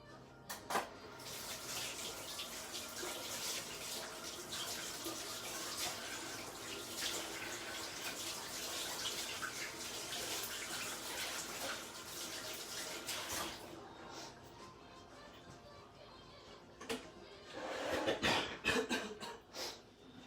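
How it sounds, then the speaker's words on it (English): Boiled water is poured steadily into a cooking pot, a continuous splashing rush for about thirteen seconds, followed by quieter clinks and a brief burst of stirring or sloshing near the end. "and then we're going to add the boiled water"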